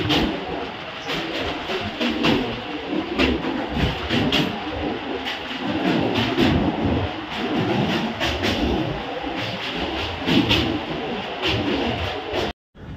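A Tarakeswar–Sealdah local train crosses the Dakshineswar bridge with a steady, loud rumble and rolling wheel noise, punctuated by rhythmic metallic clacks throughout, ending in a sudden cutoff.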